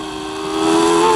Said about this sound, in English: Great sound from that Peugeot V10.